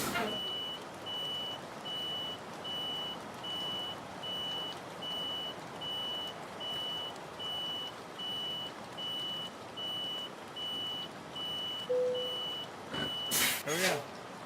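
A truck's reversing alarm sounds in Euro Truck Simulator 2, a steady run of evenly spaced electronic beeps over a low engine drone, with brief louder clatter near the end.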